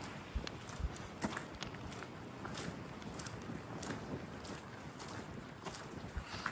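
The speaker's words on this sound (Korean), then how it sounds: "또, 또 시작이야. 바람이 또 불어." Steady outdoor wind in Toronto in winter, a constant broadband rush with buffeting on the microphone and a few faint footsteps, continuous and fairly loud with no talking.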